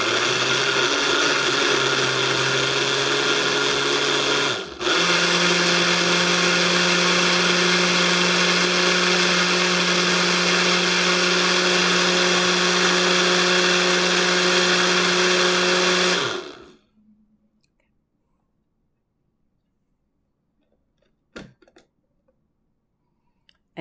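A kitchen blender whirs steadily and loudly, blending avocado aioli sauce, with one brief dip in pitch midway before it cuts off. Near silence follows, broken by a single faint click.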